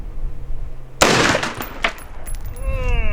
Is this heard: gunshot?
yes